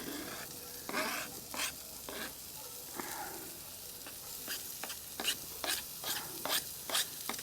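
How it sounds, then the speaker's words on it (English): Onions and garlic sizzle steadily in a hot pan over a campfire, with a series of short scraping stirs breaking in at irregular intervals. "now we're just going to chuck the onion in, and I'll fry that off"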